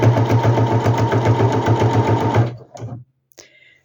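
A sewing machine stitches bias binding around the edge of a geometric-print fabric bag, a loud, close, fast rhythmic whirring that runs steadily for over two seconds, then winds down and stops, followed by a few brief handling clicks.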